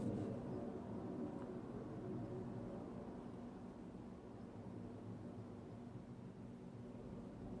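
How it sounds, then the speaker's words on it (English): A steady low rumble of an airplane passing overhead, continuous and distant, fading slightly over several seconds with no voices. "right now there is a plane going overhead"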